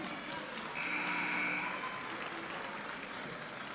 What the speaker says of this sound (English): the crowd gives her a nice hand